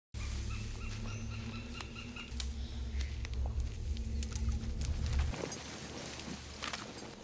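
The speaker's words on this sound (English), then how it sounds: "You hear shit chirping and screaming, leaves rustling." Birds chirp and call through dense jungle ambience in a Pacific war series scene, a steady bed of low rumble beneath scattered sharp calls that grows busier and brighter toward the end.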